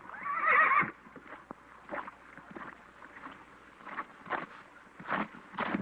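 A horse gives a sharp, high whinny at the start, followed by soft, irregular hoof thuds and snorts.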